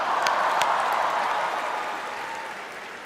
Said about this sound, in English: Can we have a huge round of applause for my opening act